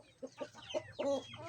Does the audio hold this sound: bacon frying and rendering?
no